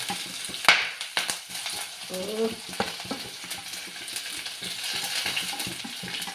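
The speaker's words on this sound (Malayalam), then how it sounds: "ഉള്ളി എല്ലാം കൂടി ഇട്ട് കൊടുക്കാം." Sliced onions frying in a pan for a Palakkad-style curry, a steady crackling sizzle with scraping stirs and clinks of a spoon, close and moderately loud with no talking.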